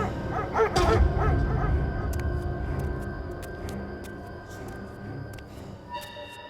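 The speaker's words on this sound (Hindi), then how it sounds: "कहीं सारे कुत्तों के भौंकने की आवाज उसे डरा देती है।" Many dogs barking together near a railway station at night: a loud burst of overlapping barks and yips early on, then scattered sharp barks and whimpers trailing off over a steady low background.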